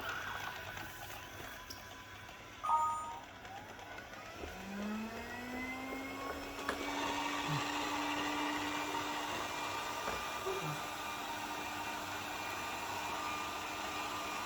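A Pureatic N8 robot vacuum cleaner running in mopping mode gives a steady motor whir with a rising pitch that settles into a constant drone, plus a few soft clicks and bumps. It plays alone at close range with no talking.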